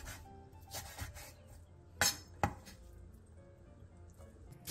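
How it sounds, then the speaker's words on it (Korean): A knife chops seaweed stems into short pieces on a cutting board, a few sharp, sparse taps at uneven intervals, close and fairly quiet, with no talking. "미역줄기는 먹기 좋게 3에서 4cm 정도 길이로 잘라주세요."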